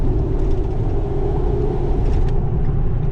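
A 2016 Ford F250 with a Power Stroke turbo diesel engine pulls hard from inside the cab, a loud, steady low rumble with a droning engine note that holds throughout.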